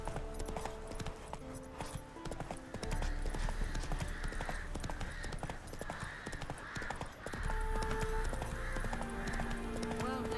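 The horse in The Witcher 3 gallops with steady, loud hoofbeats in a driving rhythm, with game music and ambience underneath and a brief whinny in places.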